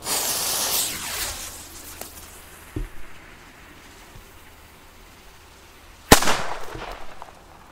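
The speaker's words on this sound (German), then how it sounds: "Bin auch jetzt nicht lauter wie ein normaler D-Böller." A firecracker about as loud as a D-Böller goes off outdoors: a fuse fizzes at first, a couple of small pops follow, then one sharp, loud bang echoes away.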